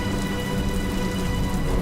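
Heavy rain pours down in a steady, dense hiss, constant and fairly loud with no voices.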